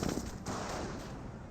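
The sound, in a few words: 30 cal machine gun fire in video game Company of Heroes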